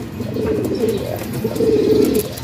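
Racing pigeons in summer training at a loft in Victoria, Tarlac, coo steadily and close by: soft, throaty, overlapping calls that roll on without a break.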